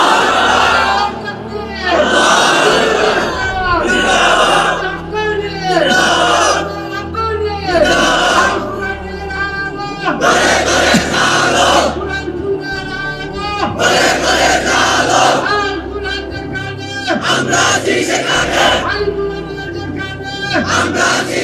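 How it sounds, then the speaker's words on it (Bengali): A large crowd of young men chanting slogans and takbir in loud rhythmic bursts, answering in unison again and again with short pauses between each shout. "তোমরাই স্লোগান দাও, তোমরাই তাকবীর বলো"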